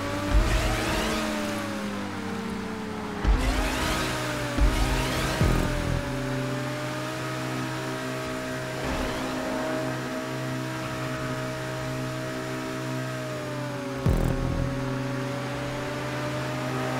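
Car engines rev and whine through a GTA street race, several sustained tones rising and falling in pitch, with sharp bursts of acceleration and shifting as cars close in and pull away.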